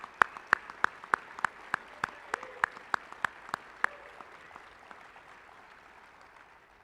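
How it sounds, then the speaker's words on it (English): Sparse, slow clapping at an awards ceremony, a dozen or so evenly spaced sharp claps ringing in a reverberant hall, fading into quiet room tone after about four seconds. "Let's give Bernie a round of applause."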